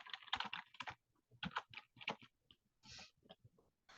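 Fingers tap out quick bursts of keystrokes on a computer keyboard, close and clicky, with short pauses between runs.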